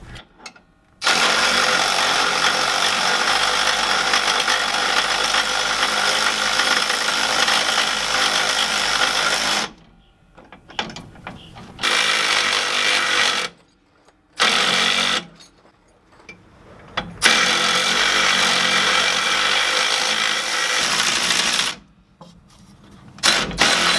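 A power tool tightens bracket bolts while a Firestone Ride Rite air spring is installed against the leaf spring of a 2013 Chevy Silverado, with loud sustained whirring bursts broken by short pauses, close up.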